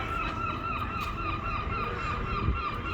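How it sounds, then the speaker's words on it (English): A seagull crying on a midwinter Blackpool seafront, with repeated honking calls over constant outdoor wind and traffic rumble. "a seagull cries behind me"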